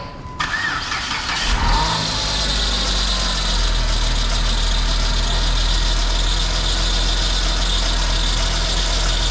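A Chrysler PT Cruiser GT with the 2.4 turbo engine cranks, fires up and runs at a steady, loud idle close by while its wheels spin, a constant low rumble and hum with no voices.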